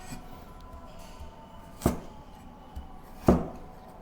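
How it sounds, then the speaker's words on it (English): A knife cuts through carrot on a cutting board, turning it into thin strips, with two distinct chops spaced apart over faint background hiss. "Cut the carrot into thin slices."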